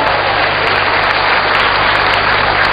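A studio audience on an Indonesian TV talk show claps loudly and continuously, a dense, close wash of hands with a low hum underneath.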